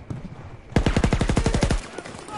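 Machine gun fire in Battlefield 2042, a close, loud burst of about a dozen rapid evenly spaced shots lasting around a second, followed by fading echo and faint background noise.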